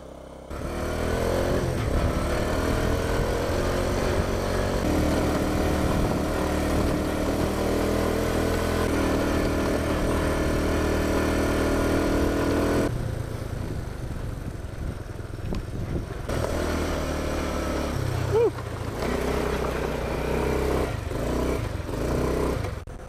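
A small Tomos 50cc moped engine buzzes steadily along quiet backroads, holding a constant pitch for a long stretch before easing off and then picking up again, close and continuous with no voices.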